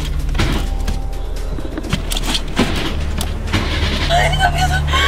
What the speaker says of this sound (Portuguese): Rápido, rápido, liga o carro!